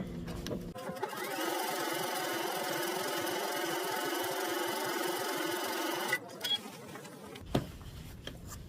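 A sewing machine runs long gathering stitches at stitch length 5 on a sundress. It whirs at a steady, loud, close hum for about five seconds, then stops with a few clicks and handling noises.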